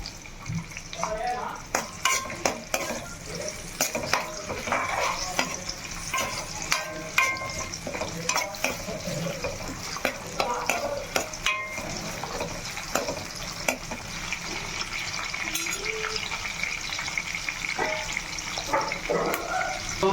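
Green chillies, onion and curry leaves frying in a pan for a ridge gourd dish: constant crackling sizzle with frequent scraping and clattering from stirring, fairly close and busy throughout, with faint voice traces underneath.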